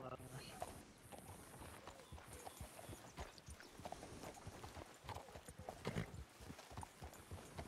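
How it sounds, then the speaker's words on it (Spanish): Faint horse hooves clip-clop in a Western roleplay game, quiet repeated thuds beneath a steady background, with people talking over them. "escuché un caballo para allá"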